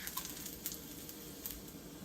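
Beef searing in a wok over a high-powered commercial stove, tossed with chopped ginger and garlic, gives a steady, close, crackling sizzle that holds for the whole stretch with no voices.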